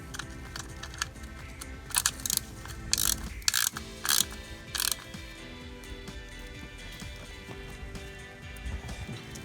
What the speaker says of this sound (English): we're just going to put a little bit of torque on it.